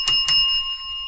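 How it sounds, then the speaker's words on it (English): A bell is rung twice in quick succession to celebrate a hat trick during a sports card group break, two bright rings whose tones hang on and fade. "Let's ring the bell for hat tricks."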